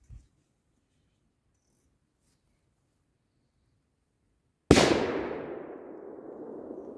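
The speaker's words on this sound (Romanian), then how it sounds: "Deci n-ai cum să zici că nu te distrezi cu petarde legale." A legal 2-gram firecracker goes off once with a sharp, loud bang after several seconds of near silence, followed by a long fading crackle and echo, with no talking.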